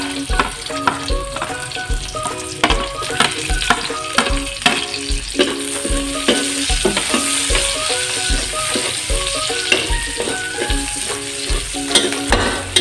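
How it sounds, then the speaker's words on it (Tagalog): Garlic and onion sauté in a pan for a vegetable-meat ginataan, a steady sizzle of frying broken by rhythmic clanks and scrapes of a spatula stirring against the pan. "pagsabay na po natin igisa itong ating bawang tsaka sibuyas"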